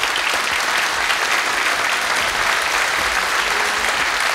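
Studio audience of a TV show applauds loudly and continuously, a dense, even wash of clapping throughout.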